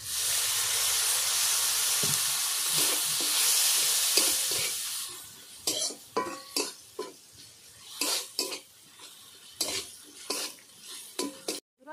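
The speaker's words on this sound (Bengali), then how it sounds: "ভালোভাবে মশলাটা কষিয়ে নেব" Chilli powder and cumin powder masala, loosened with a splash of water, sizzles in a kadai while being stirred for a patties filling. There is a steady frying hiss with repeated scraping strokes of the spoon against the pan, close and alone.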